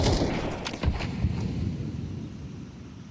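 A grenade explodes in the Counter-Strike video game with a heavy boom at the start, followed by a few sharp crackling gunshot-like cracks and a lingering rumbling tail that slowly fades.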